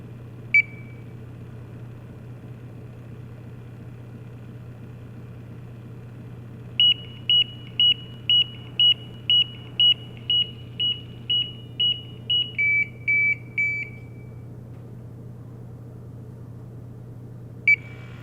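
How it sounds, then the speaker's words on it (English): A single electronic beep, then a rapid series of about a dozen regular beeps shifting to a lower tone, and another lone beep at the end, over a steady hum: an ALTAIR 5X multigas detector pump flow check alarm during warm-up. "When that flow check alarm sounds, then it's time to turn the instrument around"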